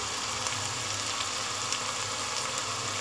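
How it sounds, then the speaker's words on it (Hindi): Ground cumin and turmeric fry with onions in a pan for beef kofta curry, giving a steady, even sizzle and crackle that runs unbroken throughout, fairly soft and with no voices. "अब इन सब चीज़ों को भी हम भूनेंगे।"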